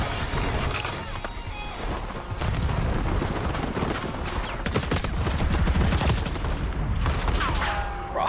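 Rapid gunfire rattles through a shooter video game round, with dense overlapping bursts and sharp louder shots over continuous action noise and a voice present during the fighting.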